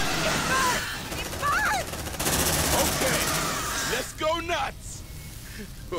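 Gunfire from a weapon in the Aliens: Dark Descent video game, bursts of rapid shots mixed with game effects and a spoken voice.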